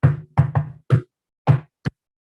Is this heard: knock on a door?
yes